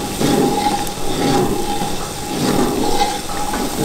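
Garlic dropped into hot oil already holding cardamom, cinnamon and onion for mutton haleem gives a loud, steady sizzle that swells and eases in waves, close up, with no talking.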